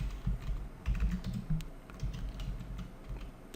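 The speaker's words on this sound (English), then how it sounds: "so here let's type fact." Keys clatter on a computer keyboard at a desk while a responsive Bootstrap website is being built, a quick irregular run of soft taps with a few louder strokes, close and alone with no talking.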